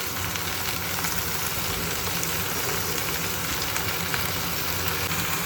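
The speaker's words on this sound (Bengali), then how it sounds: "এবার কড়াইতে তেলটা দিয়ে গরম হয়েছে, আমি ফালিয়া আর আলুগুলো" Long beans and potato pieces sizzle steadily in hot mustard oil in a kadai, a dense, even crackle and hiss that stays loud and close throughout with no talking.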